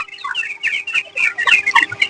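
A flock of broiler chickens on sand litter clucks softly and continuously close by, many overlapping murmured calls with no talk.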